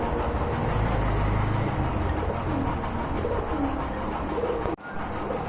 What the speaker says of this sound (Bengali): এটা কি কবুতর ভাই কাশ্মীরি রেসার